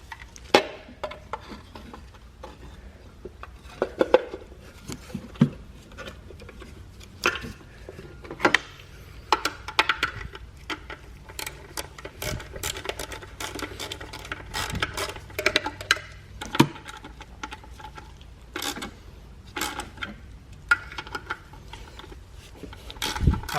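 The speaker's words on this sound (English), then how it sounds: "now I'm gonna put the cap back down" Hands refitting the distributor cap on a C4 Corvette during ignition maintenance: a close run of small plastic clicks, snaps and light mechanical rattles, scattered irregularly over a faint background hum, with no talking.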